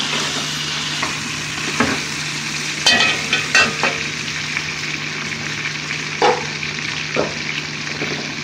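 Potatoes browning with meat in a pan for Sindhi biryani, a continuous loud sizzle broken by occasional stirring scrapes and clatters.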